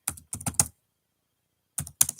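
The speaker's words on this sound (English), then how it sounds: "Sorry guys, I'm typing episode tonight." Short bursts of typing on a computer keyboard, a few quick clusters of key clicks separated by a pause, close and fairly quiet.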